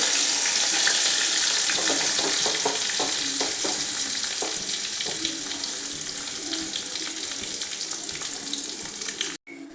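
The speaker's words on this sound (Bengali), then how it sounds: "নারকেলগুলো একটু লালচে করে ভেজে নিচ্ছি" Continuous sizzle of coconut frying in a pan until browned, with occasional scraping and stirring clicks, loud and close, fading slightly before cutting off at the end.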